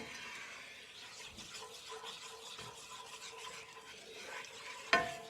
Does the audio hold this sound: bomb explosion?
no